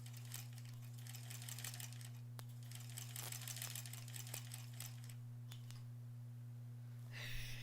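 A sewing machine top stitching a zipper pouch, a faint rapid rattling run of needle strokes over a strong steady hum, pausing briefly before a short louder burst near the end.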